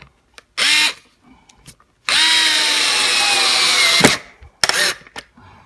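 A power drill drives screws while a wireless security camera is mounted: one short whirring burst, a longer sustained run of about two seconds, then a few brief trigger bursts, close and loud, with no talking.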